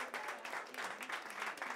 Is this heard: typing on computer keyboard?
no